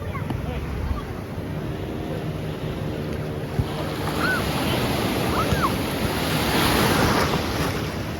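Sea waves break and wash onto a beach at Pangandaran, a steady loud surf roar with gusts of wind buffeting the microphone throughout.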